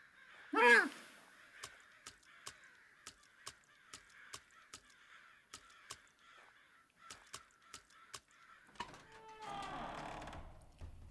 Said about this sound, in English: I like crows. They're smart little critters.